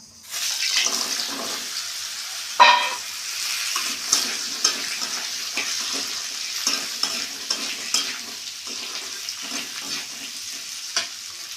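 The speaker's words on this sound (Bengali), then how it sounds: "এবার আমি কুমড়োগুলো দেবো" Pumpkin pieces frying in hot oil with nigella seeds for a pumpkin chhokka, a continuous close sizzle broken by repeated spatula scrapes and knocks against the pan.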